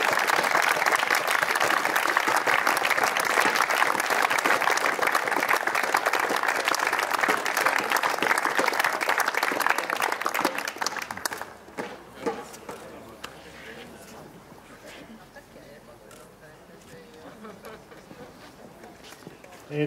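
Audience applause at the closing ceremony of the Sardinia Open 2017 tennis tournament in Alghero, a long dense burst of crowd clapping that drops abruptly after about eleven seconds, leaving scattered claps and murmurs.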